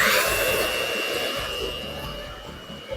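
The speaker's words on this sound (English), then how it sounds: "I'm going to whisk this until the brown stage is achieved." Electric whisk beating eggs and sugar for a sponge cake, a steady high motor whir with a slight rattle, close and continuous, fading a little toward the end.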